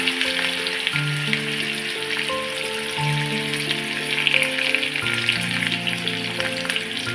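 Onion and curry leaves fry in hot oil in a kadhai for spicy mixed dal, giving a continuous close sizzle with light stirring, layered under background music.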